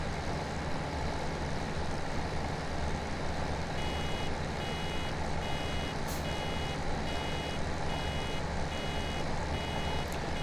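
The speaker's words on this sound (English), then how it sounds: "I wish there was a way to disable the alarm on this." A vehicle's reversing alarm beeps steadily in Farming Simulator 17 on a field in Goldcrest Valley, the repeated tones running over a loud, constant engine drone throughout.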